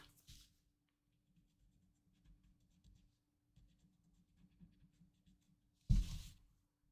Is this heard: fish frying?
no